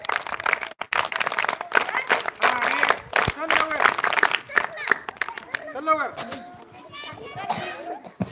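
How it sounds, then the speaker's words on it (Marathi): A group of children clap at a school sports competition, with scattered, uneven claps mixed into lively shouting and chatter from the kids throughout. "हे टाळ्या वाजवा चौथीसाठी"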